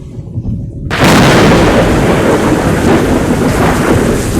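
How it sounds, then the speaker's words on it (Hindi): Thunder rumbles over heavy rain, breaking in suddenly after a brief quieter moment and then holding as a loud, dense, continuous roar with no voices. "सुनो, मेघ गर्जनाएं हो रही है।"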